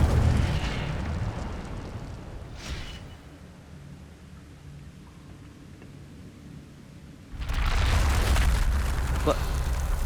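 Roaring blasts of flame from the Incendio fire spell in Hogwarts Legacy surge loudly, fade to a low rumbling lull, then erupt again in a dense, crackling whoosh near the end.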